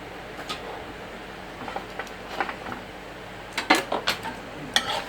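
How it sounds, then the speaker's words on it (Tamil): A stuffed aloo paratha is cut in a pan, giving sparse, soft clinks and taps of a utensil against the pan over a low background hiss, with several sharper clatters near the end. "இப்போ சிம்மில் வச்சுட்டு நான் பாருங்கள் கட் பண்ணி காமிக்கிறேன்."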